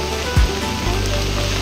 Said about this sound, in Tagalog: lalo pang lumalakas yung ulan ngayon oh.